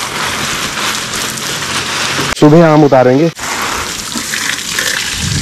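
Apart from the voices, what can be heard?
garden hose watering plants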